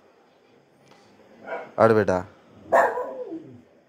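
A dog whimpers and cries close by in a couple of short, strained, whining bursts, with a person talking over and between them.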